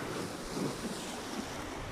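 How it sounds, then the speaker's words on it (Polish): Sea waves washing on the Baltic coast at low tide, a steady close rush of surf mixed with wind noise on the microphone, with no voices. "Ja kocham morze, także Państwu pokazuję morze."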